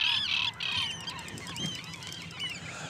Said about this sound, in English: Just look at the concentrations of gulls and terns feeding upon tiny baitfish pushed up to the surface.